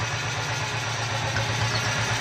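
An auto-rickshaw engine, rebuilt from scratch after its crank broke, idles steadily nearby with a low, even throb and no voices.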